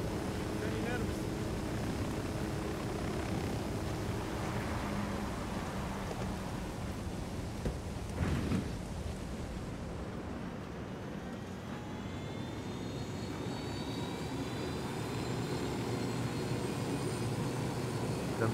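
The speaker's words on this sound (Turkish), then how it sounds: "Sen biner binmez helikopter tehlike ötüşü yapmaya başladı." A helicopter in the Ghost Recon video game flies with a steady droning engine and rotor roar throughout, a brief thump midway, and people talking over it.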